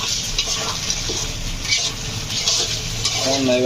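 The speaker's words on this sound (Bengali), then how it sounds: "এখন খিচুড়ি সবটার সাথে মিশিয়ে নেব" A spoon stirs and mixes khichuri in a cooking pot, giving continuous close scraping and churning with a soft sizzle underneath, steady throughout.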